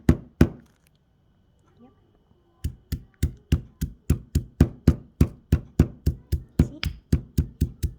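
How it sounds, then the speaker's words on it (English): Maltesers are pounded in a mortar and pestle for an ice cream mix, starting with two hard knocks and then a steady run of about twenty evenly spaced, loud crunching thuds, with brief talk near the start. "mash them bit by bit so that I can add them to my ice cream mix"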